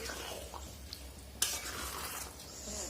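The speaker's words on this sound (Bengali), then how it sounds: "আগে এটা কড়াতে ঢেলে দিই তারপর তোমার সাথে দেখাচ্ছি তো দেখো এখানে দেখো মশলাটার সাথে এবার এটা মিশিয়ে নিই" A spoon stirs ghugni with spices in a kadai, giving close scraping and stirring sounds over a soft sizzle, with one sharp clink of metal partway through.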